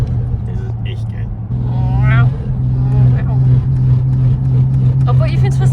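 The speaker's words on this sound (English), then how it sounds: "It's got downpipes and the rear mufflers are modified, so it's a bit louder than stock." BMW Z4 with downpipes and modified rear mufflers, its engine and exhaust giving a low, steady rumble heard from inside the car while people talk over it, with a brief rising rev midway.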